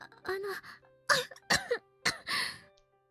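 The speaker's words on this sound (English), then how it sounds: "I think she's probably coughing because she's talking too much." A female video game character from the visual novel 9-nine- coughs and clears her throat in several short voiced bursts, close and clear, with some vocal sounds between them.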